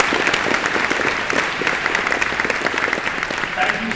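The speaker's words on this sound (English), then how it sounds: "A big round of applause." Audience applause after a speech at a large gathering of young leaders, a steady wash of many hands clapping at moderate volume without pause.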